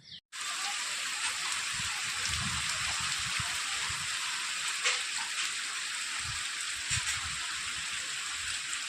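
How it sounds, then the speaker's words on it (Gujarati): Rain falls continuously over a farm field, a steady, even hiss that holds unbroken throughout, with faint low rumbles beneath and no voices. "તો જો સતત ને સતત વરસાદ ચાલુ છે"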